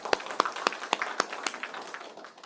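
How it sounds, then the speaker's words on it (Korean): A few people clap their hands in a sparse, irregular rhythm of about seven distinct claps close by, then softer scattered taps. "박수 한번 쳐드려야 되겠네."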